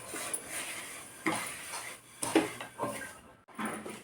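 A spoon scrapes and taps against a pan while milk powder and sugar are stirred together for milk-powder peda, quiet irregular clinks and scrapes spaced a second or so apart, close by.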